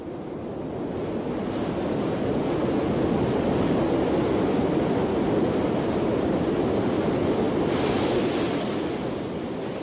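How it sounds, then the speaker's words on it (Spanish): Krimml Waterfalls in the Alps, where water crashes about 380 metres down three successive cascades, producing a loud, steady, broadband roar that holds unbroken throughout with no voices. "El agua se precipita a través de 3 cascadas, una a continuación de la otra, y se estrella"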